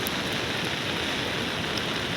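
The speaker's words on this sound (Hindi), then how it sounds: "कुछ ऐसा बारिश का मौसम हो रखा है" Steady rain falling on the Madhmaheshwar mountain trek, a constant dense hiss with no breaks or talking.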